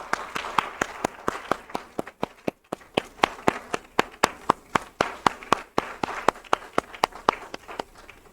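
A church congregation at a Sunday joint worship service at Juwon Church in Yangju claps together in a steady, even rhythm, each clap sharp and distinct, moderately near and sustained throughout without talk.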